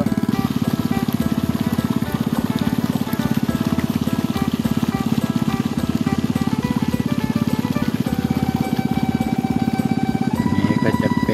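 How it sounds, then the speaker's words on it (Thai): A water pump runs on a farm with a steady, loud, rapidly pulsing engine drone that holds an unbroken rhythm throughout, with no talk. "ตอนนี้ก็ยังสูบน้ำอยู่ครับ"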